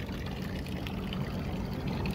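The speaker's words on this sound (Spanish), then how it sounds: "cuando pasamos los 3 o 4 bares, vemos cómo el sistema de seguridad va soltando el agua" A safety valve on a solar thermal system vents its water-glycol mix once pressure passes three to four bar, giving a continuous, even rushing and splashing of liquid with no pauses.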